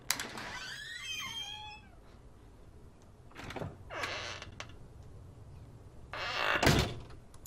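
A door sound effect with an opening creak, a clunk and then a separate close, a few distinct near thuds and rattles, preceded by a cat-like whining squeal.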